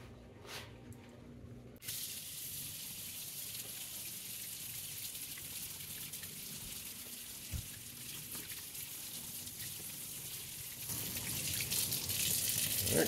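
A tap runs cold water in steady, continuous flow, starting abruptly after a quiet moment and growing slightly louder toward the end, used while dyeing disc golf discs with clear glue.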